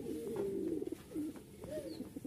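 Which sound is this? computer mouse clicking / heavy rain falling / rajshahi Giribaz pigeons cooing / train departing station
rajshahi Giribaz pigeons cooing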